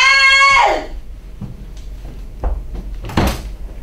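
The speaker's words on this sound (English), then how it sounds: "Melanie struggles to unjam the door." A jammed door in a stage sound effect is tugged and rattled, giving a series of sharp knocks and clunks. A creak comes first, followed by uneven bangs, with the loudest jolt near the end.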